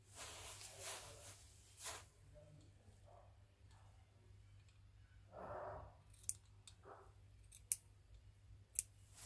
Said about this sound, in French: Je vais venir couper là.